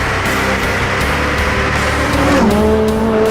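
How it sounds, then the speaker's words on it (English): A McLaren 570S sports car accelerating hard, its engine roaring steadily and loudly throughout with a rising pitch shift near the end, close and dominant with no talk. "McLaren 570S. I love the doors. 570 is for the horsepower. This car is fast. It really accelerates hard."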